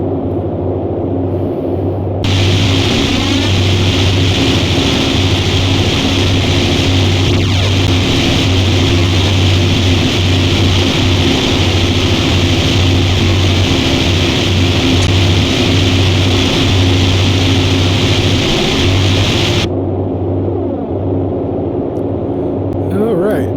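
Twin propeller engines of a Boeing 247 drone steadily in cruise flight in Microsoft Flight Simulator 2020, a loud continuous rumbling hum with a constant tone throughout, while someone talks over it.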